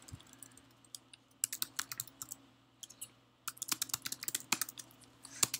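Fingers type on a computer keyboard in irregular bursts of close, crisp key clicks with short pauses between, over a low steady hum.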